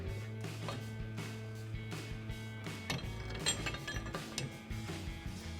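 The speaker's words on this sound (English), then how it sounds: "we'll go ahead and get our U-bolts and our U-bolt retainer mount back on" U-bolts and a U-bolt retainer mount are fitted onto a Toyota Tacoma during a Rough Country 3.5-inch suspension lift install. Quiet metallic clinks, ratcheting clicks and faint scrapes of the hardware are heard nearby over a low hum, with no speech.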